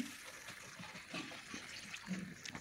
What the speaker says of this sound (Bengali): পরিমাণ মতো জল দিয়ে ঝোলটা দিয়ে দেব।